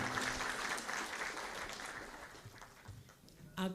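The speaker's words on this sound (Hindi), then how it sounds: "मोहतरमा डॉक्टर नवनीत गांधी, आप लोगों के बेशुमार तालियों में माइक पे।" Audience applause, a continuous patter of many hands clapping that gradually fades, ending with a short voice at the close.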